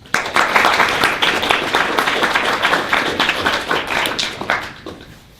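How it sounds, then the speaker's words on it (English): An audience at a panel talk on the future of Islam claps for the speakers, dense close applause building quickly, holding steady for several seconds, then thinning and fading out. "So let's give them a round of applause."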